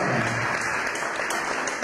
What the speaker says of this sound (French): Est-ce qu'on peut applaudir très fort pour maman ce soir?